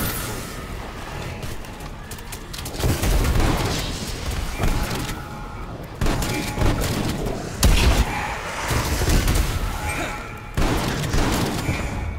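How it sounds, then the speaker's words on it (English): Stun grenade and gunfire in the Call of Duty Black Ops Cold War final boss fight, with repeated booming blasts and bursts of shots over a constant noisy battle din. "Stun grenade out."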